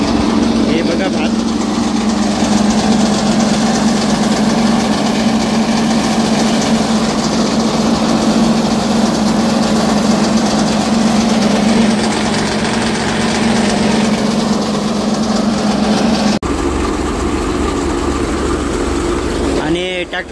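A tractor engine running steadily with a paddy threshing machine attached, a continuous loud drone with a strong low hum throughout, then the tone shifts near the end; a voice speaks over it.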